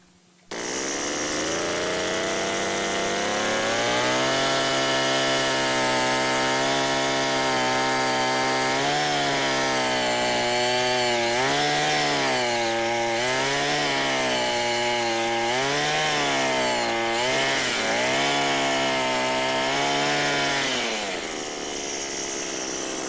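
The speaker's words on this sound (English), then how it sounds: "Tell you what, we'll drill one more right here." A powered drill bores a hole in soil for a termite bait station, its motor whine loud and steady, rising and dipping in pitch as the bit works down, with no talk over it.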